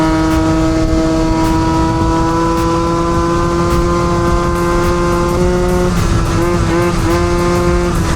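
Scooter engine fitted with a Stage 6 Overrange kit over-revving, a loud, close, sustained high-pitched wail that holds steady and then wavers near the end, with no talking.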